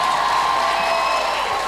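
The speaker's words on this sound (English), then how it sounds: "Give her another round of applause." An audience at a primary school leaving ceremony applauds, a dense, steady wash of clapping and cheering heard close and loud from start to finish.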